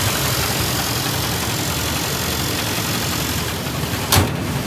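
An old car engine idling after a cold start in freezing polar vortex weather, with a steady, close, even rumble and a brief louder knock near the end, with no talking.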